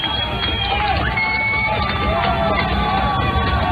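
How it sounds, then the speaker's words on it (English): Football stadium crowd at a CSU-Pueblo versus Colorado Mines game, students among them, a loud, continuous roar of cheering and shouting with scattered whistles. "Crowd that is here making some noise"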